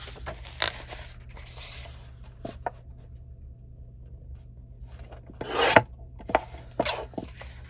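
Quiet scraping and rasping of cardstock being cut for card making, with a few sharper slicing strokes near the end; no voices.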